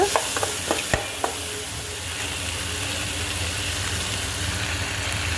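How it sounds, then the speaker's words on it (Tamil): Tomatoes sautéing with a little salt in a pan, opening with a few sharp clatters of stirring before settling into a steady, close sizzle that runs on alone. "ரெண்டு தக்காளி ஆட் பண்ணி நல்லா வதக்கிக்கலாங்க உப்பு கொஞ்சமாக சேர்த்து வதக்கிக்கோங்க"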